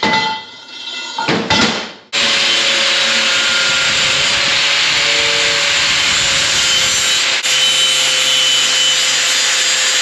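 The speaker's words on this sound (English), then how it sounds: "Cutting notches with the hole saw gives you a far better notch." A hole saw cuts notches, starting after a brief pause with a loud, continuous high whine and grinding that holds steady to the end, close and with no talk.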